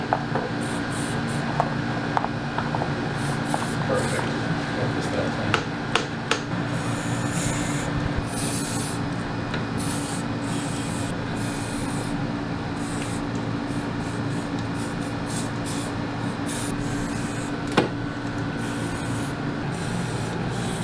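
S100 lubricant sprayed onto the moving parts of a 2022 KLR 650 motorcycle, soft hissing aerosol bursts and rubbing sounds repeating at moderate level against a steady background hum.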